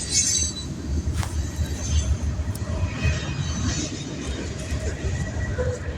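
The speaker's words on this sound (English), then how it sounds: "we're gonna try to get away from these trains" Trains passing on the rails, a continuous low rumble of wheels with brief high squeals and clanks, steady and fairly loud throughout.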